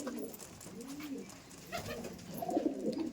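Lal dom and kal dom pigeons in a loft cooing, soft repeated throaty coos rising and falling close by, with light rustling and faint background noise.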